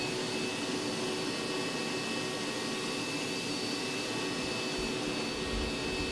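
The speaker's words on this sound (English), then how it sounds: "Let's show with the coffee grounds first. So we got them set up over here. Got our vacuum. Let's see how this thing sucks." A vacuum cleaner sucking up coffee grounds gives a loud, steady, close roaring whine with a bright airy hiss, running unbroken throughout with no talking.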